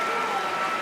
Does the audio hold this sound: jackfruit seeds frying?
no